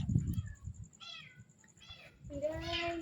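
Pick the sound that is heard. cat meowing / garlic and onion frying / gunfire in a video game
cat meowing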